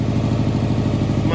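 A Subaru engine with an Evo front end, suspected of an exhaust leak, running steadily up close with a loud, even, low-pitched idle pulse throughout.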